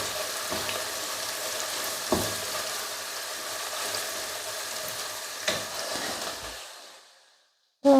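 In a pan, a mixture with tomato paste fries with a steady, close hiss and sizzle, broken by a couple of sharp stirring knocks, before the sizzling fades out near the end.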